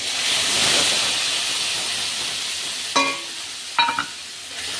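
A poppy seed, tomato, green chilli and cashew paste sizzles in a pan with a steady, loud frying hiss, broken by two sharp utensil clinks near the end.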